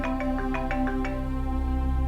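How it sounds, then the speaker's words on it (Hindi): A phone ringtone plays a repeating melodic electronic pattern of short bright tones for about two seconds, steady and fairly close, with no talking over it. "गुलाम, इस फोन को उठा ले"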